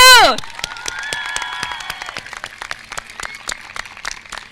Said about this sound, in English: I would like to ask if we could give a big round of applause to the class of 2022.